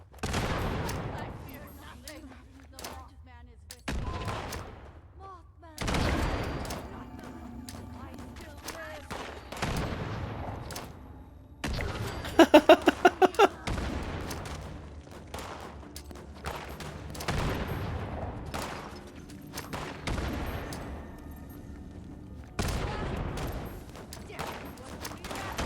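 Grenade blasts and gunfire in the video game Fallout 76, with repeated loud bursts and booms across the stretch, including a quick string of rapid shots near the middle, mixed with game sounds.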